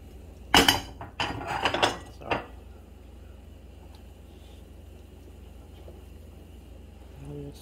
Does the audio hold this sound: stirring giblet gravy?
yes